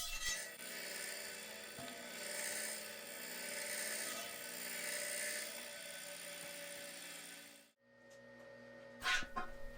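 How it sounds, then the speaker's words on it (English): A bench grinder smooths the edges of metal pieces for a tool chest workbench build, with a continuous harsh grinding whine for about seven seconds. It then cuts off, leaving a faint motor hum and a brief scrape near the end. "I can start grinding the edges smooth. I'm just using a bench grinder for this process"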